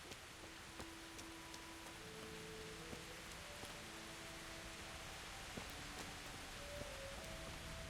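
Steady rain falls in the medieval video game Kingdom Come: Deliverance, a continuous soft hiss of drops on surfaces with faint scattered ticks, heard alone without talk.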